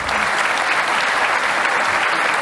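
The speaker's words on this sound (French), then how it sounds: "vous pouvez l'applaudir" Applause from a conference audience greeting Admiral Bernard Rogel on stage at a geopolitical risks session, a dense, loud, even wash of many hands clapping without a break.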